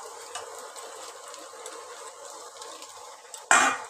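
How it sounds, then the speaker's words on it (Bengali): Pasta with vegetables is stirred in a pan, a soft continuous scraping and faint sizzle, ending in a sharp, louder clatter of utensil against pan near the end. "এবার ভালো করে সব সবজির সাথে ভালো করে নেড়ে নিচ্ছি পাস্তাটাকে"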